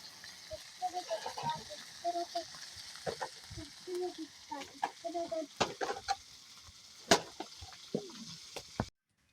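Sea fish fries in a pan with a soft sizzle and intermittent scraping stirs, set among outdoor household sounds with animal calls nearby; a few sharp clanks stand out.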